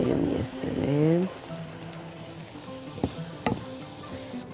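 Rice and chicken are stirred in a hot pan for a rice-with-chicken-and-béchamel dish: a steady close sizzle with spoon scraping, a brief voice near the start, and two sharp utensil knocks toward the end.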